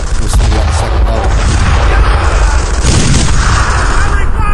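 Loud booming gunshots and explosive blasts in the World War II shooter game Brothers in Arms: Earned in Blood, a continuous wash of battle noise with talk mixed in.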